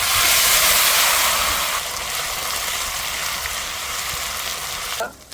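Ground onion paste drops into hot oil in a pan for a village duck curry, setting off a loud, dense sizzle that eases slightly and holds steady before a brief clatter at the end.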